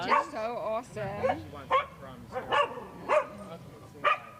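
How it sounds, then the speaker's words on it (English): Several dogs yip, whimper and bark in short, whiny bursts in the background while people talk over them in a live broadcast setting. "That's why you hear the doggies in the background."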